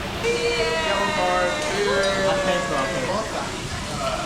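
Steady rain falls around a beach town in Tamarindo, Costa Rica, a dense continuous hiss throughout while people talk and exclaim loudly over it.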